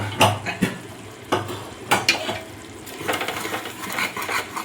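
Mutton biryani being stirred in a pot, with several distinct scraping and clanking strokes of a utensil against the metal, then a busier run of scraping and soft sizzling; close and fairly loud, no speech.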